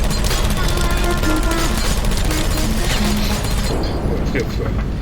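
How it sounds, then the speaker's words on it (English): Explosions in the video game Portal 2 roar in a dense, loud continuous barrage, with low rumbling blasts and crackling bursts layered together and tonal game sounds running underneath. "Things are exploding."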